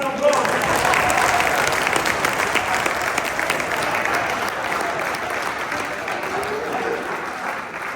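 Sustained audience applause fills a conference hall, dense and steady from the start and easing slightly toward the end, with no voices standing out.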